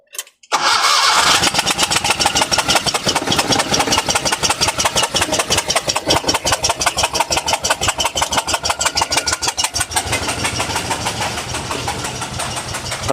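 A van with a loss-of-power fault, brought in on a tow truck, cranks briefly and starts, then runs at a steady, loud, rhythmic idle close by for the rest of the time, with no talking.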